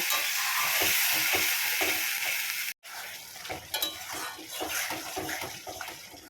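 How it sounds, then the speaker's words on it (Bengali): Ground spice paste with turmeric slowly stir-fried in a pan for a mutton curry, a loud continuous sizzle with rhythmic scraping of the spoon, a brief cut, then more spitting and stirring. "এবার মশলাটা ভালো করে আস্তে আস্তে কষিয়ে নেব"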